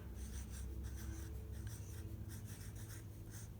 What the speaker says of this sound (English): we're going to write our name and our room number on the back of our paper.